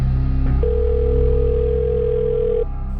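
Phone ringing unanswered in a crime drama, a steady electronic tone sustained for about two seconds over a low hum, with no one picking up.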